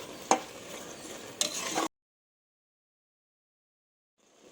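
A spoon stirs carrot halwa mixture in a pressure cooker with two quick scraping clacks and a short sizzle, then everything drops into near silence.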